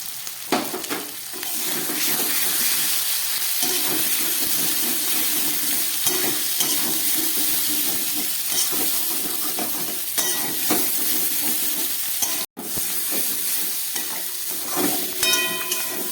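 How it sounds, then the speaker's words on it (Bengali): Green chili, chili powder, cumin powder and vegetables fry hard in hot oil for a Bengali fish curry, giving a loud, steady sizzle with repeated stirring scrapes and one brief pause, no voices. "মশলা সবজি খুব ভালোভাবে ভেজে নিলাম।"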